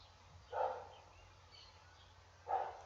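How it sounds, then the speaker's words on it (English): A neighbor's dog barks twice, some distance away, with a pause of about two seconds between the barks over a quiet indoor background. "It's my neighbor's dog"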